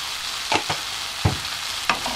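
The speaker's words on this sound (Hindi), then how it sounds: "उसको हल्के हाथों से मिक्स करेंगे।" A mushroom pulao mixture is gently stirred in a pan, giving a few short, soft scraping strokes spaced about half a second apart over a faint background, with no talking.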